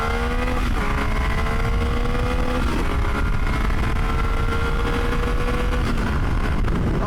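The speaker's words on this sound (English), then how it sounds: "we're going to turn here and we're going to accelerate and mash on it a whole bunch" A Triumph Tiger 800 XC triple-cylinder adventure motorcycle accelerating hard, its engine note climbing steadily through several gear changes, loud and close with constant wind and road noise.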